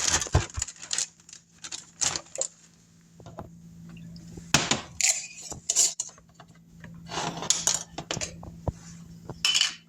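A knife slices through raw beef being prepared for homemade jerky, giving repeated short scraping and cutting strokes with light clinks against a board or dish, close up, with no talk.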